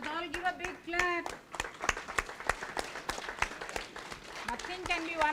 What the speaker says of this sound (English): Let us all give a big clap.